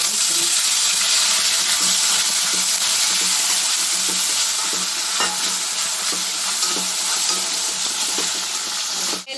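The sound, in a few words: boiled chickpeas added to spluttering cumin, frying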